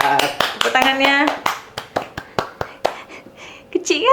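A few people clap in a small, uneven round of applause, close to the mic, with voices talking over it.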